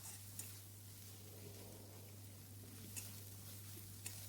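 Mixed farm-fresh vegetables with chili paste and turmeric powder being stirred and sautéed in a pan, a faint steady sizzle with soft scraping of the spoon, heard close and quiet with no talk.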